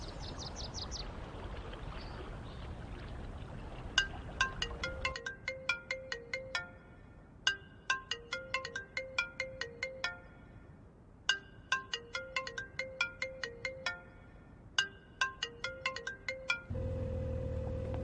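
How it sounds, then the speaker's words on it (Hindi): A phone ringtone plays in repeated melodic bursts of rapid tones with short pauses, ringing unanswered over a low background hiss, with steady rushing noise before and after. "बॉस मेरा फोन नहीं उठा रहा है।"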